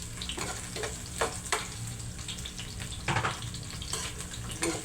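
Garlic and onion frying in a little oil in a pan, a steady soft sizzle broken by scrapes and stirring clatters, fairly quiet and close.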